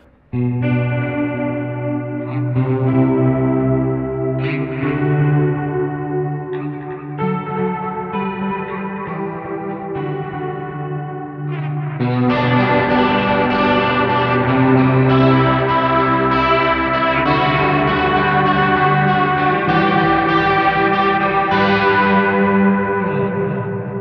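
An electric guitar plays through an effects pedalboard, heavily processed chords and riffs with distortion, chorus and echo, growing fuller and louder midway through, with no talking.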